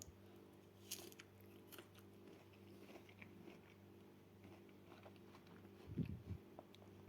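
A juicy, crunchy homegrown garden pear is bitten into once with a short, crisp crunch near the end, after faint handling noises in a quiet room.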